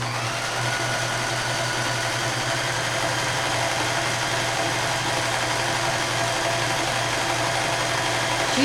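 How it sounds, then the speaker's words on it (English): A Kenmore 158.13500 sewing machine runs a smock stitch, a stretch-type stitch, with a steady low motor hum and whir that holds at an even level throughout, with no talking. "I'll show you smock stitching. It's like a stretch stitch."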